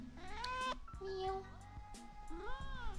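A house cat meows several times in a high, wavering voice at close range, with someone talking to it in between.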